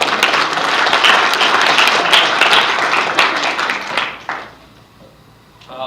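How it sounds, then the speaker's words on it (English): Applause for award winner Cheryl at an awards event: dense, loud clapping from an audience for about four seconds, then quickly dying away to a few scattered claps and quiet room noise. "So if you guys would give a round of applause for her"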